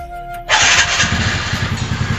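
A TVS Ntorq BS6 Race Edition scooter starts with a brief electric starter whir, then its small engine catches and settles into a steady, loud, close-up putter with no talking.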